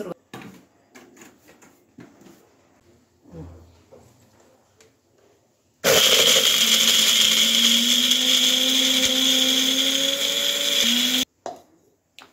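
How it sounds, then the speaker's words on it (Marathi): Masala paste for a vegetable dish, ground to a coarse texture, whirs in a mixer grinder jar in one loud, continuous burst of about five seconds, preceded by quiet handling clatter and followed by a few clinks. "हे जे वाटण आपण घेतलेलं आहे ते मिक्सर जारला काढून घेते"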